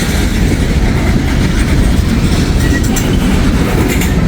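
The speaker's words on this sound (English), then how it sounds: "it'll take him a while to pick up a speed with this heavy train and only 2 locomotives" A heavy freight train hauled by only two locomotives rolls by in Wyoming, a loud, close, continuous rumble with rhythmic wheel clatter on the rails.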